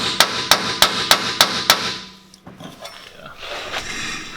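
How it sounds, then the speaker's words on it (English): Rapid series of about seven sharp metallic hits from an air chisel chipping at metal, evenly spaced and loud, then stopping and leaving a quieter clattering, shuffling tail. "I have an air chisel."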